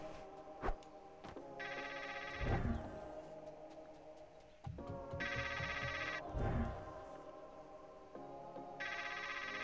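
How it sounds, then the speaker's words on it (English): Telephone ringing in the video game Trover Saves the Universe: repeated electronic bell rings in bursts, interleaved with thuds and soft game noises, fairly close and steady, no talk. "I've got to answer the phone."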